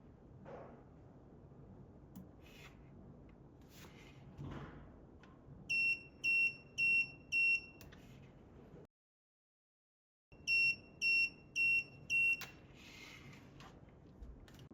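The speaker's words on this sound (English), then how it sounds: "the device will sound an alarm." An ultrasonic thickness gauge alarm beeps in two runs of four shrill, evenly spaced high-pitched tones, separated by a brief silence, over faint background noise.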